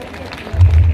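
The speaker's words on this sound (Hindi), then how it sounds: "आप जोरदार तालियों का स्वागत करें इन सबका" Audience at a children's sports festival applauding invited guests, a burst of loud clapping rising suddenly after a moment of quieter crowd noise.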